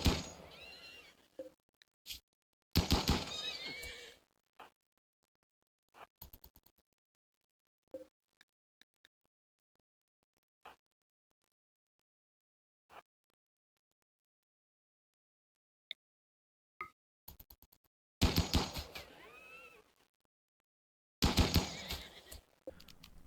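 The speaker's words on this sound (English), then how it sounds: "The horse is back for revenge." Neighing of a horse in the video game Rimworld: several loud whinny bursts separated by long quiet gaps with scattered faint clicks, the calls returning in pairs near the end.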